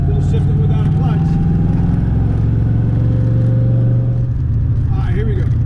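Car engine droning steadily and loud throughout as gears are shifted without the clutch through a Tremec TKX shifter, the engine note dipping and changing pitch near the end.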